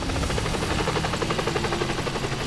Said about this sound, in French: Détruis l'hélicoptère?